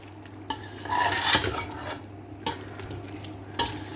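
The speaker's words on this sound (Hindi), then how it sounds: "इसको हम तकरीबन 2 से 3 मिनट अच्छे से भूनेंगे" Mutton stir-fried in a pot for yakhni pulao: a spoon scrapes and clanks against the metal over a soft sizzle, with a few sharper knocks spaced out across the clip.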